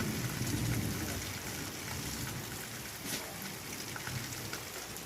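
Heavy, continuous rain falls in Taperoá, Paraíba, a broad steady wash of drops drumming on nearby surfaces, with a faint low rumble that may be distant thunder and no voices.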